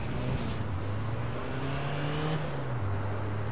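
A car engine in the online shooter APB Reloaded, revving steadily with a droning pitch that climbs and then dips, sustained and fairly close for the whole stretch.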